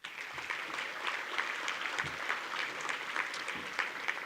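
Steady applause from a banquet audience at a Texas high school football hall of fame induction ceremony, a moderately loud, even spatter of many hands clapping throughout with no voices standing out.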